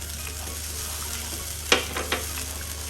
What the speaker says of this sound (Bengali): আর এখন নাড়াচাড়া দিব ভালো মতো করে, মশলাটা কষাবো।